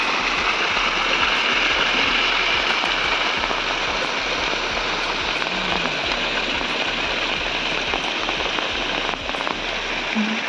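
Steady rain pours outdoors over rural farm fields during the monsoon, a dense continuous hiss of drops with a low rumbling undertone, loud and unbroken throughout.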